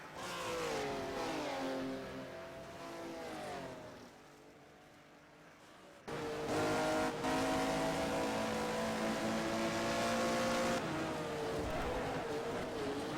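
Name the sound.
race cars driving at Mount Panorama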